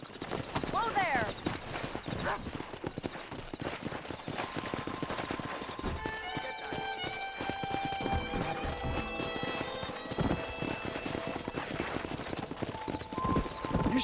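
Horse hooves clip-clop over a busy Red Dead Redemption game soundscape, with background voices, scattered gunfire and melodic chimes layered throughout.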